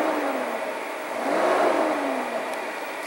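A 1999 Rexhall Rose Air 30-foot Class A motorhome engine revs from a steady idle, its pitch climbing and swelling to a peak midway before easing back down, with a constant whirring drone throughout and no talk.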